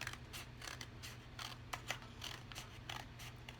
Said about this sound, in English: I'm going to turn the paper and cut this way.